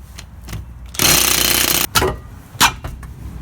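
A power tool removing a wheel from a Nissan Micra K12, a loud close burst of rapid hammering lasting nearly a second, then short sharp bursts and clanks.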